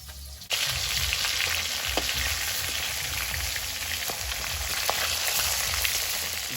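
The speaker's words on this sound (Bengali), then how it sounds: "মাছটা ভাজা হচ্ছে" Katla fish frying in a pan gives a steady, close hissing sizzle that starts abruptly and runs on evenly, with occasional faint pops and clinks and no talk over it.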